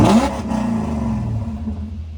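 A BMW E34 540i engine and exhaust, with the exhaust valves closed, revs hard at close range, then settles into a deep, steady rumble that slowly fades.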